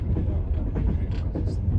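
Passenger train on the Zaporizhzhia–Lviv route, a steady low rumble of wheels and carriage noise throughout, with faint muffled voices in the compartment.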